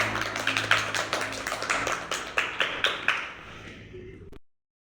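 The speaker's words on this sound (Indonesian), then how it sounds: "Tepuk tangan untuk kelompok" A classroom group claps together in a quick rhythmic pattern of sharp, evenly spaced claps for a presenting group, loud and close, then stops abruptly.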